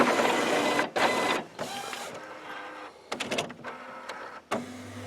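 An Epson printer's carriage motor whirs and buzzes in several mechanical bursts separated by short pauses as the print head travels to the cartridge replacement position, close and alone.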